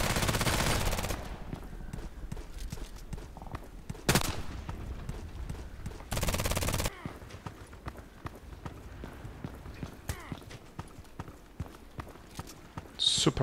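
Rapid gunfire from a Glock pistol in the online shooter Contract Wars, with dense crackling bursts and single shots scattered throughout. Loud volleys cluster near the start and again around the middle.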